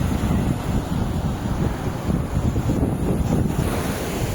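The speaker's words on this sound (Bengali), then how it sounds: "সমুদ্র একদম পুরো উত্তাল।" Rough, churning sea surf at Old Digha beach, a steady loud roar of breaking waves mixed with gusty wind buffeting the microphone, continuous throughout with no voices.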